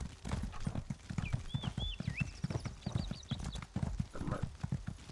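Horse hooves clip-clop in a steady, close, rhythmic trot while riding along a road in the Elder Scrolls Online game, with brief bird-like whistles overhead and no talk.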